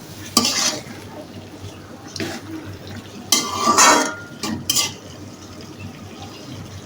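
A spoon scrapes and clanks against a pot while meat is stirred for kalabhuna, giving a few sharp metallic knocks and scraping strokes over a faint background hum, with no talking.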